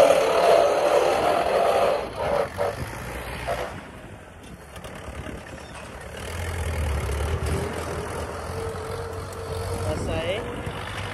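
A tractor engine runs through sowing of soybean and pigeon pea fields, a steady low drone that grows louder in the second half, with voices talking over it.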